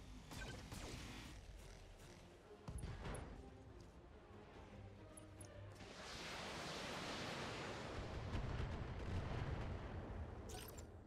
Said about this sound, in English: send some missiles at the Highlander